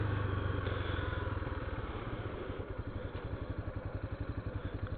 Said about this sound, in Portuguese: Agora eu vou dar uma gravada sobre a moto.